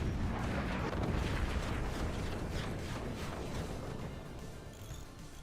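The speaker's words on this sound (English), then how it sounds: "First howitzer lands." A howitzer shell landing in the strategy game Forts, a loud rumbling blast with rolling debris and mechanical clatter that starts strong and slowly fades over several seconds.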